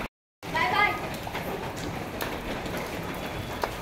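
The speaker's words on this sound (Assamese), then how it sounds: "বাহিৰত বহুত বৰষুণ দি আছে" Steady heavy rain hisses throughout, with a brief silent gap at the very start and a few faint chirps early on.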